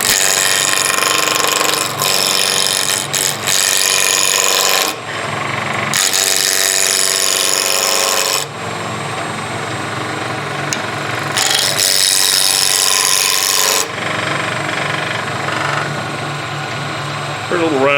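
A wood lathe spins a workpiece up to speed while a skew chisel cuts, giving loud, steady rough whirring and chattering in long stretches with short pauses between passes.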